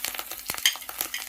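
Ginger paste and spices frying in oil for a spicy koi fish curry, heard as short scraping stirs and soft sizzling bursts in quick succession, close and without voices.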